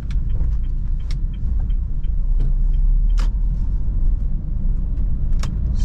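Honda Brio car driving at low speed with a steady low engine and road rumble throughout, scattered small clicks and knocks from the cabin, no clear gear-change moment standing out.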